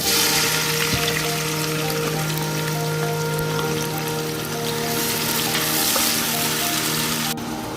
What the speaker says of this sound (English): I'm adding 5 tablespoons of olive oil. Adding 1 onion.